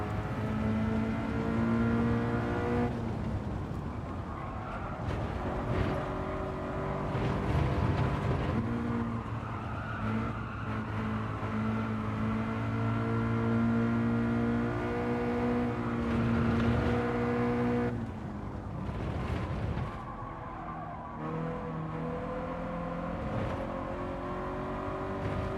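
A race car engine in the video game Gran Turismo 7 drones loudly and continuously, its pitch climbing and dropping through gear changes and braking, with brief drops in level, heard alone without talk.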